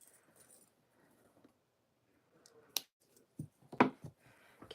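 Scissors snip off the end of a wristlet strap, giving a quiet sharp cut followed by a few light clicks and handling rustles close by in an otherwise hushed room.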